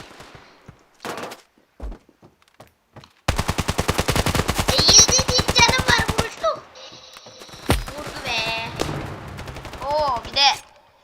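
Gunfire in the mobile shooter game Standoff: rapid automatic bursts with a long sustained spray in the middle and scattered shots later, loud and close, with a voice speaking over parts of it.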